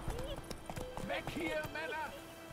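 Horse hoofbeats from a rider's mount in the video game The Witcher 3 clop in a quick rhythm, mixed with game sounds and someone speaking over them.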